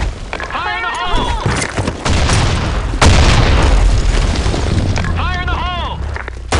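A grenade blast in the shooter game BlackShot on the Sand Storm II map, heard as a loud, sustained rumbling boom. Short shouted voice callouts come just before and after it.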